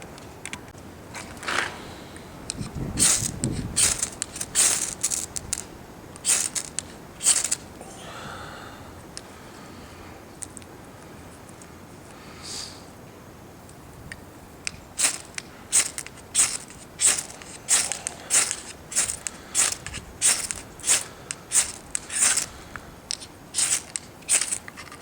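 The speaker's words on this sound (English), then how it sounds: "Give me a second, I'm going to grab my scraper." A scraper works across a piece of fatwood in sharp, scratchy strokes that come in uneven bursts, with a quieter stretch midway and then a fast, regular run of scraping toward the end.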